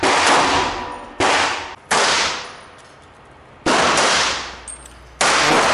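Five loud, sharp carbine shots in 5.7x28 calibre ring out at a shooting range at uneven intervals, each with a bright metallic crack and a long reverberating decay.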